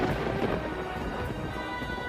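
Thunderstorm sound effect in a Hindi audio story, a continuous wash of rain and low rolling thunder at moderate volume, with no voices.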